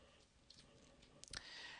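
A mouse click while drafting a line in CAD software, a single sharp tick near the middle amid faint room noise, with a soft second click shortly after.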